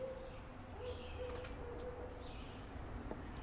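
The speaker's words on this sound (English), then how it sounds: "will pause every time for the owl." Soft, low hoots sound a few times from a distance outdoors, with quiet bird calls and a steady hum of nature sounds around them.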